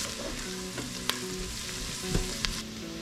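Onions fry in melted butter in a pan with a constant close sizzle, broken by a few sharp clicks and clatters from stirring.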